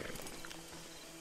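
A horse in Red Dead Redemption 2 snorts and shifts its hooves with a short clip-clop, close and moderately loud, over faint game ambience.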